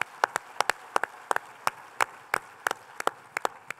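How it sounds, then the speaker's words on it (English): Sparse, distinct hand claps from a small scattered audience at a symposium, individual claps spaced irregularly rather than a dense wave, fairly quiet with a hushed room behind. "give yourself a round of applause for being part of that"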